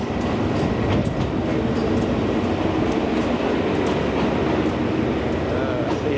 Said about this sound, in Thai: มีหัวรถวิ่งมาหัวเดียว